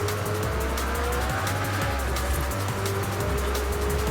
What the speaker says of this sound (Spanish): Este coche creo que es un McLaren o un Aston Martin.